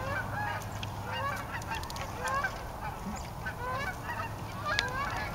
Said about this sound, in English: Canada geese. Oh, there they come. That's a pretty good flock.